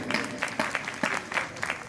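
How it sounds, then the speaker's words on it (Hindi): Audience at an outdoor Hindi poetry gathering (kavi sammelan) in Amgaon claps, a short, moderately loud burst of uneven applause with distinct individual claps standing out. "एक बार इनके लिए भी तालियां बजा दीजिए।"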